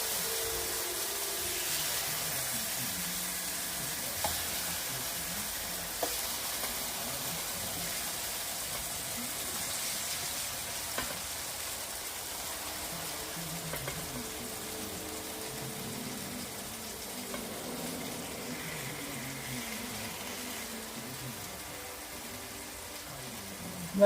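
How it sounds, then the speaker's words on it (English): Vegetables sizzle in a very hot pan while birria pizza is being cooked, a steady, even hiss with a faint low rumble that runs unbroken from start to finish. "So when the veggies hit the hot pan, it gets a nice little sizzle."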